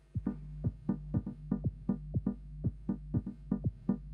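A soft synth chord repeats through a dotted eighth note delay in a steady pulsing echo, each note of the chord bouncing back about a dozen times at an even rhythm.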